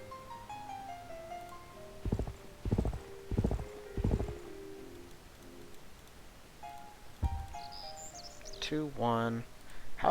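Horse unit in the Civilization III strategy game: a short run of about four clopping hoofbeats, then a pause and a whinny-like sound effect, with game music tones in the background.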